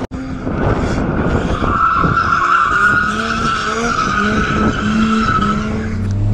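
A Mazda RX8 drifts during track practice, its tires squealing loudly and continuously over a revving engine for the whole stretch, with no talk.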